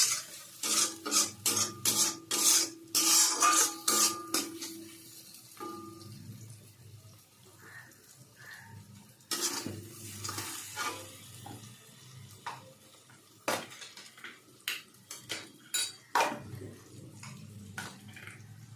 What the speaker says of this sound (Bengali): লঙ্কা গুঁড়োটাকে ভালো করে মিশিয়ে নিলাম।